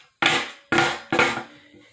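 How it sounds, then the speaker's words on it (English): Three sharp, loud wooden cracks and clunks in quick succession as the seat comes off a broken chair, each impact decaying quickly, heard alone and close. "That's the sound of the seat coming right off of the chair."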